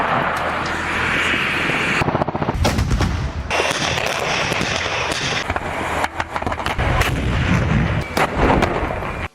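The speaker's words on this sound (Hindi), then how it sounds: "रूस की आर्टिलरी के भयानक हमले यूक्रेन की रक्षा पंक्तियों की धज्जियां उड़ा रहे हैं" Russian artillery pounds Ukrainian defensive lines in a dense, continuous barrage: heavy booms and crackling bursts overlap without pause, loud and close, with sharp impacts punctuating a rumbling wash.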